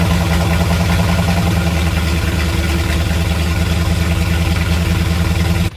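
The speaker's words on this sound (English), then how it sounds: "here I have a video of a cold start after I got my exhaust done" A 1971 Dodge Dart engine idles loudly and steadily on a cold start with a new exhaust, its deep, throaty rumble pulsing evenly before cutting off abruptly at the end.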